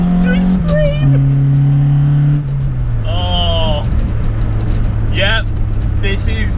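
A Toyota Starlet SR with a swapped Corolla 4AGE engine, making about 170 bhp, revs hard on a country B-road, its engine note climbing and shifting pitch at close range while someone talks over it.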